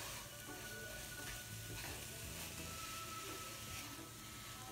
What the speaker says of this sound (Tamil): ஸோ இதை போட்டு நல்லா கிளறி கொடுத்துக்கோங்க.